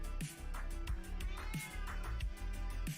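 A pet cat meows repeatedly, several insistent meows spaced about half a second apart, close and fairly loud over a steady background hum.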